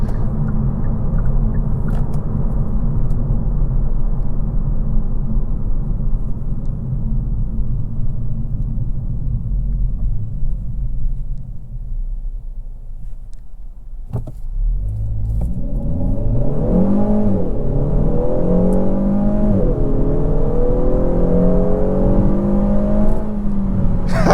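A 2023 Kia Forte GT2 with a 1.6-liter turbo engine and dual-clutch transmission drones steadily at cruise from inside the cabin, then revs up under acceleration with rising and shifting engine tones over constant road rumble.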